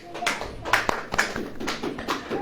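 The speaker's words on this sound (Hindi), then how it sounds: "ताली बजेगी कि नहीं?" Hands clapping at a church gathering, a run of sharp, uneven claps over about two seconds, fairly close and loud, with some voices mixed in.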